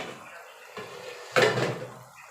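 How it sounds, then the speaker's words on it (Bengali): Metal lid lifted off a cooking pot of simmering meat: a light clink, then a louder metallic clatter and scrape as the lid comes up, trailing into a soft hiss from the pot. "এবার ঢাকনাটা উঠাইয়া দেখবো"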